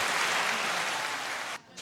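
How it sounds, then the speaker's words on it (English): A small audience on a college athletics podcast set applauds in a dense, steady patter of clapping that stops abruptly near the end. "You get some claps, too."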